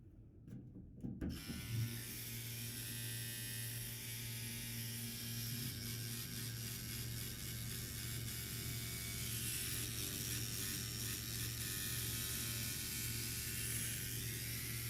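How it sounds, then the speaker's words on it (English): The motor of a Centri Evader 3 Blackbird machine starts up and runs steadily, making a close, continuous mechanical buzz with a fast ratcheting rattle and no talking. "I can basically hold this while the motor's running and it doesn't harm the motor or anything"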